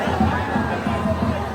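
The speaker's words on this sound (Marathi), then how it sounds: "बाबा लय गर्दी आहे." A dense crowd of devotees gathered at a palanquin procession for a goddess, a loud continuous babble of many voices close around.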